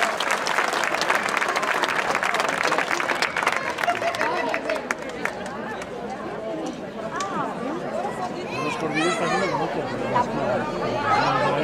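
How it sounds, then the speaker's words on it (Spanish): An audience applauds steadily at a folk dance gathering of dulzaina players in Carrizo de la Ribera, León, after the girls from the dance school perform, with dense clapping and crowd chatter throughout. "Un aplauso para las chicas, por favor."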